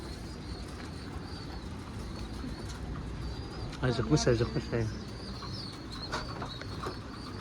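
Ankara pigeons coo in a short burst of soft throaty calls amid background noise, with people talking nearby in a coop.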